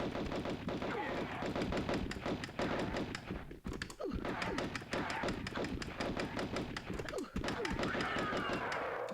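Rapid, dense bursts of gunfire from Lara's pistols in the Tomb Raider video game, played on PS2 hardware, a continuous fusillade of thuds with brief gaps, loud against game music and a player's voice.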